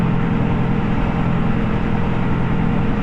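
Large tractor engine running steadily in a wheat field during liquid fertilizing, a continuous low diesel drone close by with no break in rhythm.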